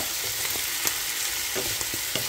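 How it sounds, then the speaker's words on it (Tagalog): Ground pork sisig sizzles steadily in a pan, dense crackling frying noise with soft scraping clicks of a spatula stirring through it at irregular intervals, close and continuous, no voices. "Haluin natin."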